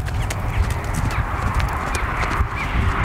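Horse hooves during a soft canter transition in a dressage schooling session, heard as a continuous rumbling, thudding stride rhythm close by, with faint background noise and no speech.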